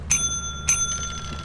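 Two quick bright rings of a bicycle-style bell in a video game, close and clear, the second followed by a lingering metallic ring that fades out.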